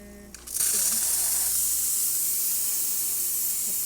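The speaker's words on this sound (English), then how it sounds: "And then the steam." A Rocket Mozzafiato espresso machine that has been failing to build pressure opens its steam wand: after a brief quiet moment a strong, steady hiss of steam rushes out and continues loud and close until the end.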